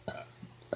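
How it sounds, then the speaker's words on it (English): A person burping on purpose, two short deliberate burps with a brief gap between them, close and fairly loud. "So I can burp 10 times."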